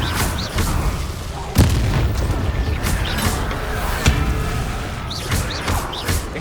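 Incendio fire spells cast in Hogwarts Legacy produce loud whooshing bursts with heavy booms, two standing out strongly, over a continuous rumbling roar of game ambience.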